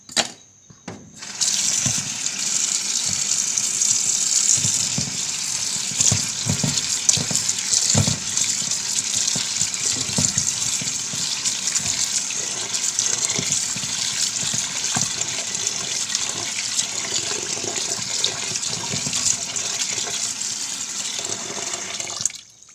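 Running water splashing steadily in a basin as chopped bamboo shoots are washed with salt for a northeastern Thai curry, a continuous close gush with small sloshes, no talking.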